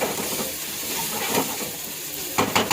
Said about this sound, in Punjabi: ਮਸਾਲਾ ਆਪਣਾ ਭੁੰਨਿਆ ਗਿਆ ਚੰਗੀ ਤਰ੍ਹਾਂ